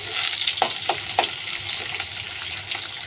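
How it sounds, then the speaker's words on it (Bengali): Onions frying in oil for a garlic masoor dal, a loud close steady sizzle with a few stirring scrapes early on, no talking. "পেঁয়াজটাকে একটু লাল লাল করে ভাজতে হবে"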